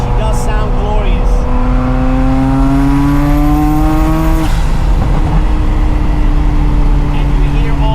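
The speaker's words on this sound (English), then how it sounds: "And you hear all these pops and crackles, and you hear the wastegate of the blow-off valve." Catless Ferrari F40 with an LM exhaust revving close and loud, rising sharply to a peak and then dropping off with a scatter of pops and crackles as the revs fall back.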